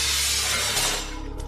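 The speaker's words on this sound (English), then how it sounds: "the sound of shattered glass unintentionally attracted zombies" Glass is smashed and shatters loudly in a single dense burst, a bright crashing spray of shards that tails off into scattered tinkling fragments.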